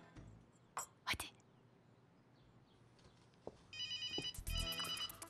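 A telephone rings in a Turkish TV drama scene, its bright electronic trill entering near the end and sounding twice in quick bursts after quiet whispered moments and soft rustles.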